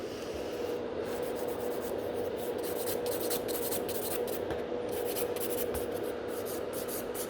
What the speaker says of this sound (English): So your file should go at this angle, so eventually it should join in the other side.